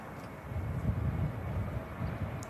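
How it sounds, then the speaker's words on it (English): Ryanair jet taking off from runway 1 at Manchester Airport on a windy day, a steady low engine rumble sustained throughout at moderate distance, with no talk over it. "we got a Ryanair off on runway 1, Andy"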